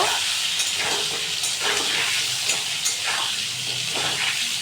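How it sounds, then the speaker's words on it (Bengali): Diced potato and papaya fry in hot oil with green chillies, giving a steady, loud, close sizzle with faint stirring scrapes and no talk. "দিয়ে দেবো ডুমো করে কেটে রাখা আলু আর পেঁপে এগুলোকেও লাল করে ভালো করে হালকা ব্রাউন করে ভেজে নেব"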